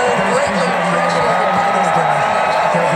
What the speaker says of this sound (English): the crowd is going nuts just seeing them up on television